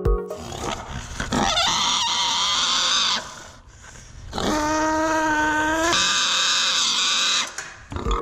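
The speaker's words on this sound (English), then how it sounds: "you will hear the pig squeal change in pitch." A pig squeals loudly and harshly during deep tracheal catheter sampling for Mycoplasma hyopneumoniae, with long piercing cries broken by brief pauses as the tone shifts in pitch.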